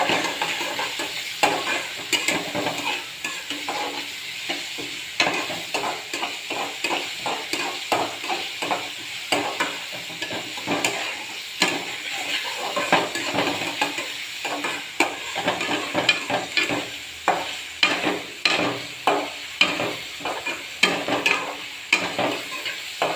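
Beetroot sautéed in a pan, a spatula stirring and scraping repeatedly against the metal in quick rhythmic strokes over a steady sizzle, close and loud, with no talking.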